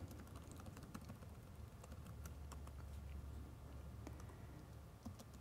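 Steady clicking of keys on a computer keyboard as Python code is typed in an editor, a continuous close patter of keystrokes with no talking.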